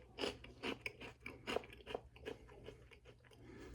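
Close, crisp crunching as dry Cinnamon Toast Crunch Minis cereal is chewed, a quick irregular series of crackling bites that taper off, with no talking.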